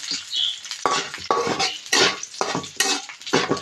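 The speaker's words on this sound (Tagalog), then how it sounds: "Iprito muna natin ang tuyong hipon" Dried shrimp frying in a pan while being stirred, with repeated scraping and clinking of a utensil over a light sizzle, close and clear.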